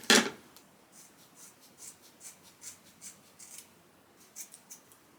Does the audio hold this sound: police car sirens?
no